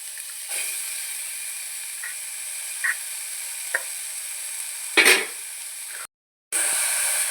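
Beetroot, onion and green chilli fry in a pan with a steady close sizzle and hiss, broken by a few soft stirring clicks and a louder scrape near the end before a brief dropout.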